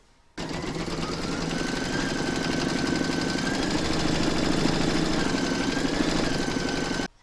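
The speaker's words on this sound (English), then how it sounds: "you're going to stitch round number 1, and that's going to give you your placement outline" Embroidery machine stitching a placement outline for a doll project, heard close as a fast, steady mechanical rattle of needle strokes that starts abruptly, runs evenly for about seven seconds, then stops.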